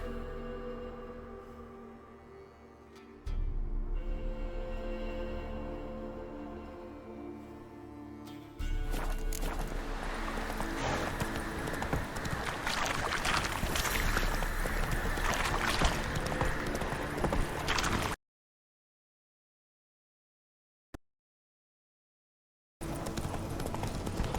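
Roach, a horse in The Witcher 3 video game, moving with steady hoof clip-clop over a broad game soundscape, then a few seconds of near silence before the sound returns.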